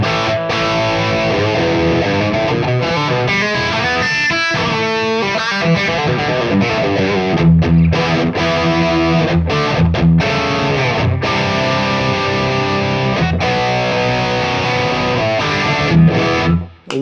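Heavily overdriven electric guitar played through stacked overdrive and distortion pedals plays chugging riffs and chords with thick, saturated distortion, loud and continuous with brief choppy stops.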